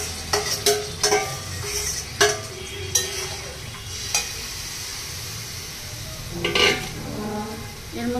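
Chicken frying with browned onions in a pan, a steady sizzle broken by sharp scrapes and clinks of a spatula stirring against the metal, with no speech.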